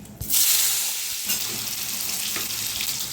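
Panch phoron and chopped tomato frying in hot mustard oil for a Bengali fish curry, a steady close sizzle that jumps up as the ingredients hit the pan, with faint stirring.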